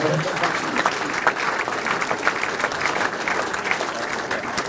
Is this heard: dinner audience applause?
yes